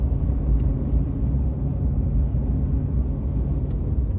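A car drives across country at just under 40 mph through a blizzard, producing a steady, heavy low rumble of road and wind noise that fills the cabin without letup and carries no voices.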